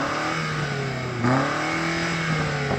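A BMW car engine revving up and holding a steady tone, loud and close, with a sharp rise in pitch midway followed by sustained high revs and no talk over it.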